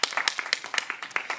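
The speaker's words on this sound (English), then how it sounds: "let's give a round of applause to our final speaker, Miss Anna, for the government" A small debate audience claps for a speaker in a school classroom, a sparse and uneven patter of individual hand claps, fairly close and moderately loud, with no voices.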